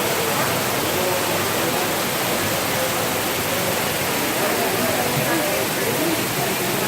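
A steady, dense roar of falling water fills the whole clip, loud and unbroken, with no distinct events standing out.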